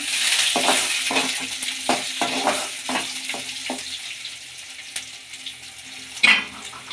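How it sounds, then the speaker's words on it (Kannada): Garlic and ginger with green chillies frying in a pan while being stirred, a bright hiss broken by repeated scraping strokes of a spoon and a sharper knock near the end, close up with no voices. "ಶುಂಠಿ ಹಾಕೊಳ್ಳೋಣ ಬೆಳ್ಳುಳ್ಳಿ ಫ್ರೈ ಮಾಡೋಣ"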